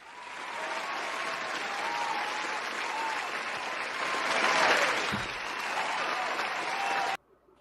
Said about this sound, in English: Let me give Dawn a round of applause.